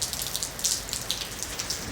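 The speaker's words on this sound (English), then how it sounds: "It's raining so bad that it's going in my back porch" Heavy rain pouring onto a back porch, a steady dense patter with scattered sharper drops, close and continuous with no voices.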